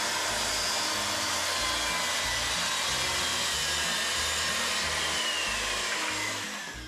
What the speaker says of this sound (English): So I'm going to try and cut it with the Makita.